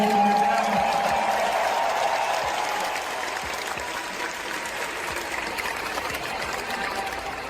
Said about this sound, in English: Let's give a round of applause for this amazing crew.